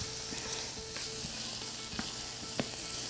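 Onions fry in a pan with a soft, steady sizzle, joined by occasional light stirring clicks, quiet and close with nobody speaking.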